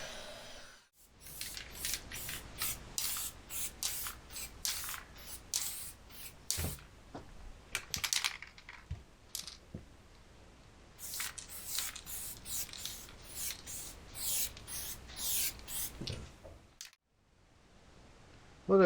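Spray paint being applied to a car as its first coat on a cold day outdoors, heard as long close hissing bursts, repeated several times with short pauses between them and no one talking.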